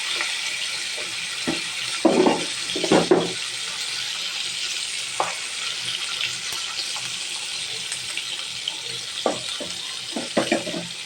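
Catla fish coated in turmeric and salt frying in hot oil gives a steady faint sizzle, with a few short clatters and scrapes from handling in the pan and no talking.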